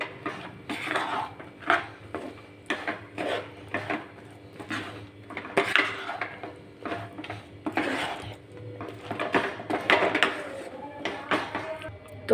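Peanuts being stirred into hot jaggery syrup for chikki, with irregular scraping and clanking of a spoon against a metal pan, close and moderately loud, in short uneven bursts with pauses between.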